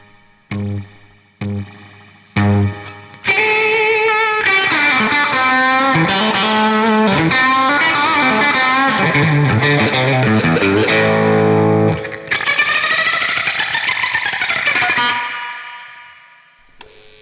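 An electric guitar played through an Amplitube 5 amp simulator opens with a few sharp muted chugs, then rings out in a heavily distorted, reverb-washed riff with bends and sustained chords before fading.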